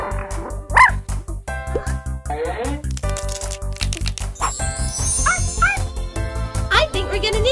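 A cartoon puppy yips and barks in short bursts over bright, busy background music with jingling touches.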